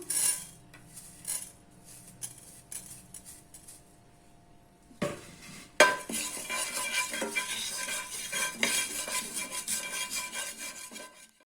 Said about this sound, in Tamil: இப்போ பாருங்கள், சோம்பு வறுபட்டுருச்சு.